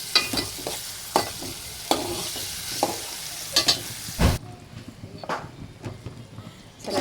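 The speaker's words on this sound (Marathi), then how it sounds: "नंतर आपल्याला मिरचीचा ठेचा आणि ते लसूण टेचलेलं आहे ते टाकायचं." Onion frying in a pan with crushed green chilli and garlic stirred in, a soft sizzle under intermittent scraping and clacking stir strokes, then a quieter, more muted frying hiss.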